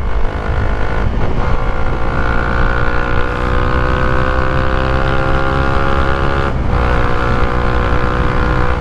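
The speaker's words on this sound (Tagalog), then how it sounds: "yung tunog ng tambutso." A Suzuki Raider motorcycle with a TRC exhaust, ridden on the road, gives a loud, steady exhaust drone with a deep throaty tone. Brief dips in the note near the start and again later suggest shifts in throttle. No one speaks.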